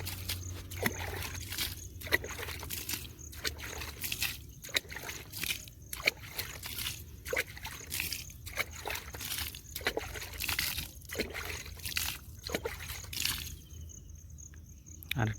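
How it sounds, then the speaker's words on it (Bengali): Water poured at the base of a newly planted banana sapling, a soft trickling and sloshing into soil, close and faint, running steadily with small splashes before stopping near the end. "এখন জল দিয়ে দিচ্ছি।"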